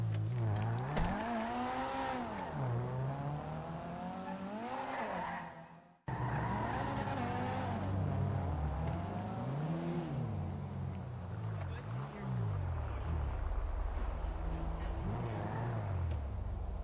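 A stolen car in GTA 5 revs and accelerates with repeated tire squeals and skids, its engine pitch rising and falling through gear changes and cutting out briefly before surging again.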